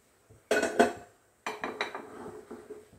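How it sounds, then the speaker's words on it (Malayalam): A metal cooking pan set down on a kitchen stove before heating coconut oil to temper mustard seeds for a snake gourd sambar, giving two sharp clanks followed by a cluster of lighter clattering knocks, close and alone. "അതിന് വേണ്ടി ഒരു പാത്രം വെച്ചിട്ടുണ്ട്"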